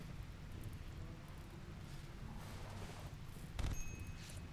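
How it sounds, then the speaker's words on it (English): Rain falling in the colony game RimWorld, a continuous soft hiss of steady rainfall with a faint low rumble, plus a short louder burst near the end. "Okay, the rain will put the fires out."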